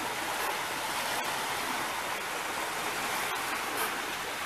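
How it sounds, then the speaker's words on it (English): Wind and waves on Big Bay along the Trent-Severn Waterway, heard from a solar-powered boat: a steady, broadband rushing wash, continuous and fairly close, with a few brief clicks and no voices. "And of course the wind and the waves are behind me."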